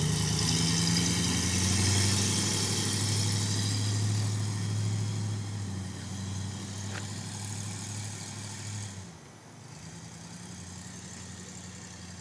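A Ford F150 truck engine idles nearby with a steady low rumble and hum, easing slightly in level over time before briefly dropping near the end, with no voices.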